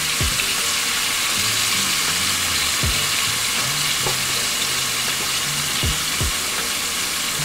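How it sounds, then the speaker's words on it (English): Shrimp frying in a hot pan, a steady dense sizzle running throughout with a few brief knocks and scrapes, one short spoken word over it. "I'm gonna put all this shrimp in there. It's gonna take longer to cook"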